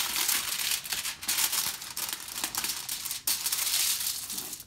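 Aluminium foil is folded and crinkled by hand for foil art, making continuous close crackling and rustling with a few sharper crunches.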